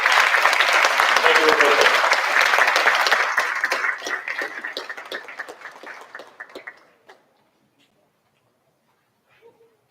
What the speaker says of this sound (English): please join me in giving a heartfelt round of applause